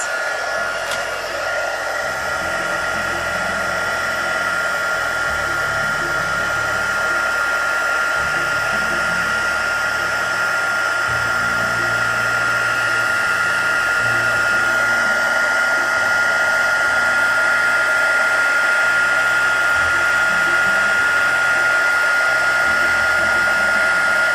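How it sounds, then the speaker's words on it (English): A handheld heat gun runs steadily while melting embossing powder over a stamped image for a mica powder painting project, a continuous close whirring blow with airy hiss, constant in level throughout with no talk. "Now with your heat gun, you're going to go over the image and melt the embossing powder"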